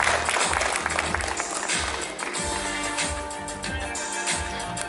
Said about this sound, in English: a huge, massive round of applause to all the contestants standing here